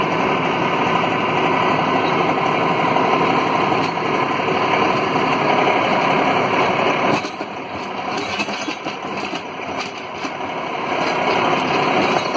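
A Mahindra 2555 tractor fitted with a County Line straight blade plows snow, its engine droning steadily and loudly throughout, with the tone roughening and dipping briefly partway through as the load shifts.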